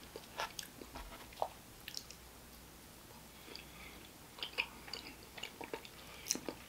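Close, quiet chewing of Pillsbury sugar cookies with icing, with soft crunches and bites scattered irregularly across the clip, with no talk.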